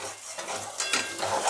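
Potol and prawn masala sautés in a pan after salt and sugar go in, a steady soft sizzle with a few stirring scrapes, close and alone.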